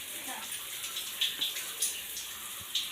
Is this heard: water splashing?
yes